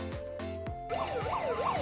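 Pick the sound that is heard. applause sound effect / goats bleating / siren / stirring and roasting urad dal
siren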